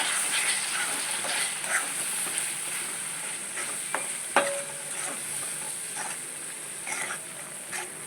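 Liver being stirred with Agri Koli masala, salt, red chilli and turmeric in a frying pan: steady close sizzling with repeated scraping and stirring strokes, and a few sharper clinks along the way.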